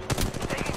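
Rapid automatic gunfire in the mobile video game Apex Legends Mobile, a short burst of quick repeated shots, moderately loud.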